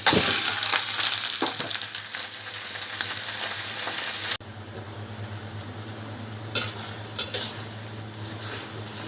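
Chinese cabbage frying in a pan, with a steady loud sizzle and occasional clinks of a utensil stirring against the pan, no one talking.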